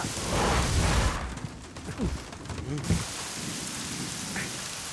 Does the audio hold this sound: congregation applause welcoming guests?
no